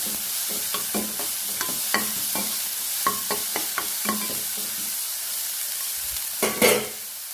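Onions, green chillies and garlic fry in a pan for a Kerala jackfruit thoran, with a soft sizzle under repeated spatula taps and scrapes in an uneven rhythm, ending in a louder burst of clattering stirs.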